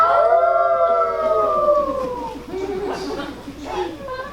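A voice mimics a wolf's howl, a long wavering tone sliding downward, followed by softer howl-like yips and murmuring voices.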